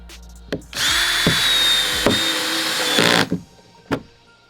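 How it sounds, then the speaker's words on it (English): A power drill drives screws into a homemade budget skimboard rail, one sustained high whirring run of about two and a half seconds, loud and close, bracketed by sharp knocks and clicks of handling before and after. "when you're screwing these ones in, don't go just screwing them in willy-nilly"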